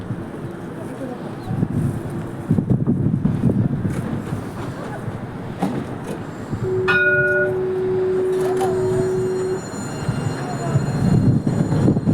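A line 3 tram pulls into the Mosson terminus, rumbling and rolling with a rising hum and a sustained tone sounding partway through, over station ambience and nearby voices.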